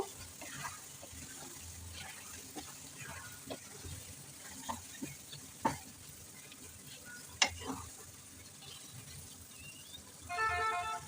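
Boroi (jujube) pickle being stirred with ground pickle spices in a pan, giving soft repeated scraping and stirring strokes over a low sizzle, with a brief clatter near the end.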